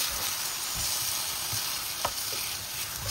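Chicken pieces sizzling and frying in a pan of adobo broth with bay leaf, a steady hiss with occasional stirring scrapes and pops, close and continuous with no talking.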